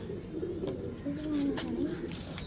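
Pigeons cooing at a breeder's loft, Asal kabotar brought from Karachi to Faisalabad; soft low coos rise in the middle of the stretch, with someone talking alongside.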